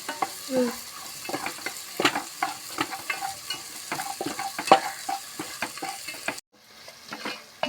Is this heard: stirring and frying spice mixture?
yes